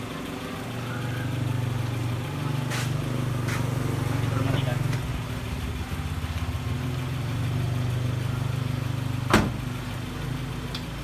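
A car engine idles steadily at a low, even rumble as a group climbs in on a rainy day, with occasional knocks and clicks and people talking.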